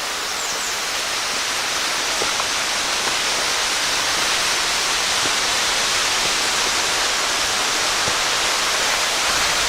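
Keyser Run Falls in Shenandoah National Park roars steadily and loudly, a dense unbroken rush of falling water with no other sounds standing out.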